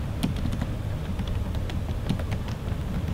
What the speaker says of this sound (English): then just type hello